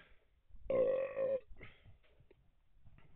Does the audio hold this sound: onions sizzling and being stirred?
no